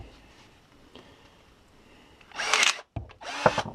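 A Parkside PAAS 20-Li A1 cordless garden pruner cutting a piece of plywood: a faint motor hum, then two loud, close motor-driven cutting bursts separated by a brief pause.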